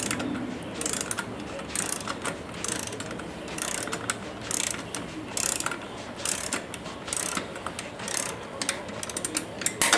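A torque wrench ratchets steadily while a rear wheel is tightened, giving close, continuous clicking of the pawl in repeated quick bursts over a constant mechanical background.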